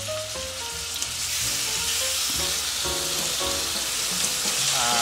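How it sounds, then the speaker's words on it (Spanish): Whole chicken pieces sear in a pan, a loud continuous frying hiss filling the scene with steady crackle, accompanied by a low repeating tonal hum, no voices. "Hemos puesto todo nuestro pollo a sellar."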